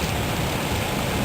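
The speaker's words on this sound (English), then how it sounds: "it's just going to be raining now" Steady rain falls after a severe thunderstorm, a dense, even wash of noise that holds constant throughout, with no voices.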